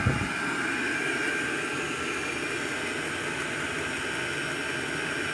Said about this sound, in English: And the fan is, you know, it's quite noisy